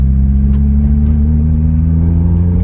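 A Mazda Miata NB engine running steadily with a deep, even rumble after a motor mount replacement, close and loud, no voices.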